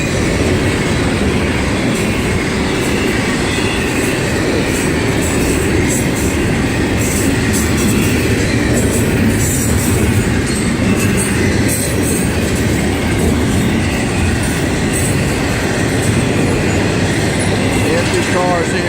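A freight train rolls past close and loud, a dense, continuous rumble of wagons with clattering wheels and faint squeals running the whole time.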